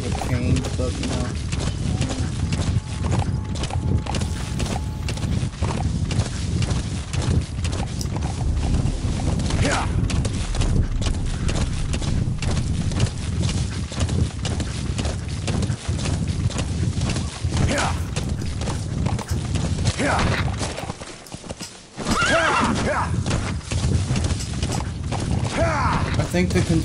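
Hooves clip-clop in a steady trot while the horse is ridden in Metal Gear Solid V: The Phantom Pain, with game sounds and someone talking continuously over the top.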